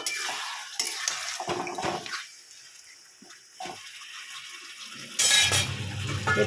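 Chicken curry sautés in a pan as a spatula scrapes and stirs in short strokes, the sizzle dropping quieter midway before a louder burst of frying hiss returns near the end.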